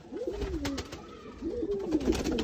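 Pigeons from a Sialkoti flying-pigeon loft coo in soft, rising-and-falling bursts, two main phrases a second or so apart, close and clear with no voices.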